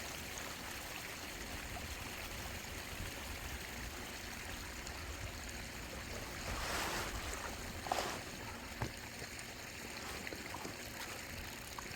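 Steady rushing water from a water garden runs throughout, a constant wash of flow with a brief louder surge partway through and a couple of small knocks.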